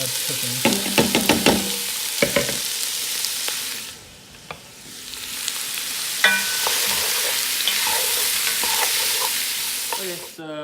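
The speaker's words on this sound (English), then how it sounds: "I'm gonna add all of my vegetables here and saute for about 4 minutes" Vegetables sautéing in a hot pan for dinner, giving a steady hiss of frying with clustered clatter of stirring utensils, a brief lull midway, then the sizzle swelling back up close and loud.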